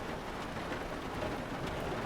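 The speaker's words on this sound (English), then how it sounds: "Weather conditions are pretty ugly. In the middle of a thunderstorm." Steady dense rain during a thunderstorm at sea in a U-boat video game, heard as a continuous hiss with a low rumbling undertone and no talk.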